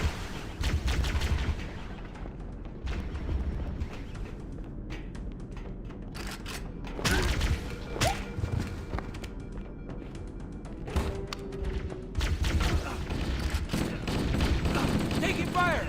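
Bursts of rapid gunfire rattle in a shooter video game, clustered volleys of sharp shots and thuds striking the player, coming and going over several seconds amid the game's ambient sound.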